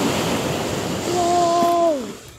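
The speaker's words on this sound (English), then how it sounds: "There's still massive waves that are coming through." Big ocean waves crashing onto the beach at Staithes, UK, a loud continuous surf roar swelling to a peak and then easing, buffeted by wind on the microphone, with a brief whistle-like tone over it.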